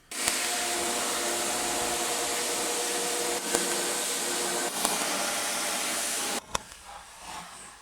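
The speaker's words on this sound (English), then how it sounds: "I heard you like vacuums, so we're gonna vacuum the vacuum." A vacuum cleaner used to vacuum a Roomba robot vacuum runs loudly and steadily with a broad whooshing roar for several seconds, then switches off, leaving a few faint knocks.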